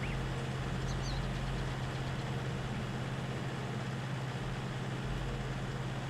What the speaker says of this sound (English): this tractor should be perfect for what we need